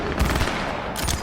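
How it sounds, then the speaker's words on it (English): Distant gunfire in Cyberpunk 2077's Night City, a short, muffled rattle of shots that blurs into a low rumbling burst. "Who's shooting?"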